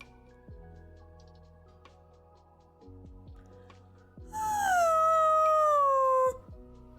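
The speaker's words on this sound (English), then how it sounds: "Alexa's playing deep sea sounds right now. There's like whales" Whale calls from a deep sea soundscape play through a smart speaker: low drifting moans, then a loud, long sweeping wail that slides downward for about two seconds before fading.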